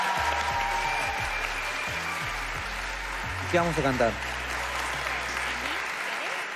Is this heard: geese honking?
no